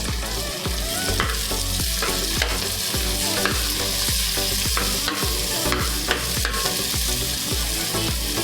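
Green chillies frying in a pan of hot oil for veg pulao, a steady loud sizzle with rhythmic stirring scrapes throughout, no talking.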